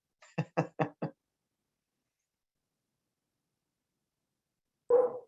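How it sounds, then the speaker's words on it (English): Four quick knocks rap on a door at home during a remote public planning board hearing, close and crisp, followed by silence and then one louder thump. "somebody's knocking at my door, of course, during a public hearing"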